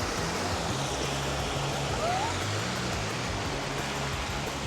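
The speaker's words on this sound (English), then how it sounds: "Nice little stream." A small waterfall stream in Queensland, a continuous broadband rush of flowing water, close and steady, with no one talking.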